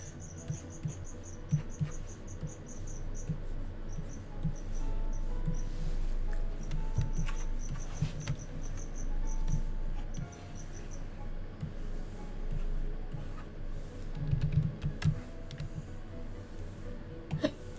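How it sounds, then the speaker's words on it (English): Crickets chirp steadily as background ambience behind a faint, continuous low hum, with brief soft clicks and rustles scattered through the quiet scene. "Crickets are providing ambience as usual."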